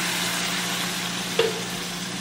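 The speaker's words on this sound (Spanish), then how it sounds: "Vertemos nuestro chile en la cazuela del pollo." Red chile sauce poured into a pot of chicken, giving a steady loud sizzle and frying hiss with a brief splash partway through, no voices.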